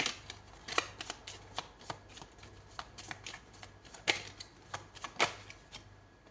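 Tarot cards are shuffled and drawn in a series of quiet, crisp flicks and snaps that repeat irregularly over a faint steady hum.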